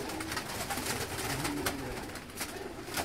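Soft pigeon coos repeat under a busy, noisy background, faint and somewhat distant.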